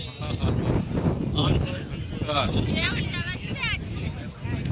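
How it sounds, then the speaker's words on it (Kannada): Strong wind gusts buffet a cruise boat on Dubai Marina, a steady loud rush filling the clip beneath ongoing conversation. "ಆದ್ರೆ ತುಂಬಾ ಗಾಳಿ, ಸಿಕ್ಕಾಪಟ್ಟೆ ಗಾಳಿ ಇದೆ"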